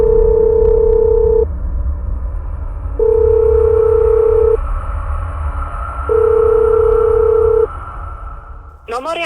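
A telephone ringback tone sounds while a number is called back, three evenly spaced long electronic tones over a low background hum, ending in a brief click.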